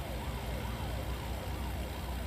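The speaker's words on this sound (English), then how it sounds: "Okay, we have sirens. Where's the police car at?" Police car siren in the American Truck Simulator driving game, its rising and falling wail repeating steadily over a loud engine and road drone, with no talking.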